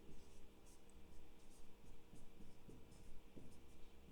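Chalk or marker scratching and tapping on a classroom board during a geography lecture, a run of short strokes and taps over a steady hum, fairly quiet and close.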